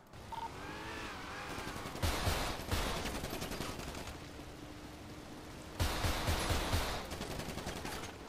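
Pistol fire from a Glock in a GTA roleplay game, heard as two loud, dense bursts of shots, one around two seconds in and another near six seconds, with quieter noisy background between.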